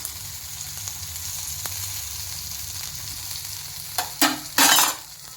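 Chicken tikka fries in oil released by the chicken, a low, even sizzle that carries on alone before a few louder bursts of stirring and scraping in the pan near the end.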